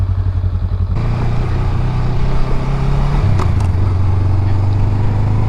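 Honda Rebel 500 motorcycle pulling away, its engine note rising from a close idle into a steady revving drone with some clatter.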